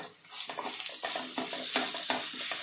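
Ginger garlic paste fries in oil for mushroom biryani, with a steady sizzle broken by repeated scraping strokes of a spoon in the pan, close and moderately loud, with no talking.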